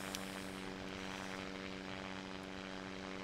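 Steady drone of a propeller airplane engine in the VR flight game SimplePlanes VR, loud and continuous with a constant pitch, no voices.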